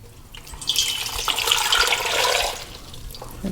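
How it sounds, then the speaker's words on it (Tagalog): Water runs in a steady splashing stream into a cooking pot of cassava being prepared for nilupak, rising and holding for about two seconds before tapering off, close and fairly loud with no talk. "Okay, then lagyan natin ng tubig."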